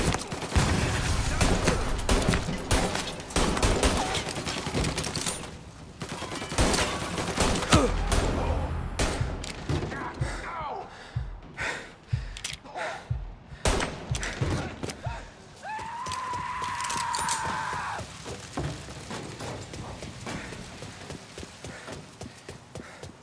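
Repeated gunfire from a shootout in the game Mafia Definitive Edition, bursts of shots cracking in clusters over a dense, busy mix of other game sounds, loud and close for most of the stretch.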